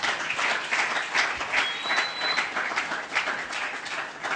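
Church congregation applauding as an evangelist preacher arrives, a sustained, fairly loud wash of clapping with a faint whistle partway through.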